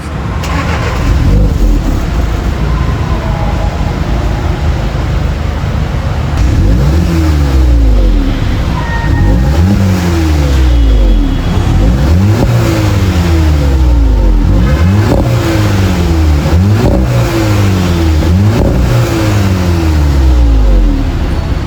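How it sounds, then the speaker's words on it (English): A 2016 VW Polo GTI with a 1.8-litre turbocharged engine and a reported oil leak starts up and is revved repeatedly, each loud, close rev rising and falling in a steady series with no talking. "let's just start this vehicle and hear how it sounds"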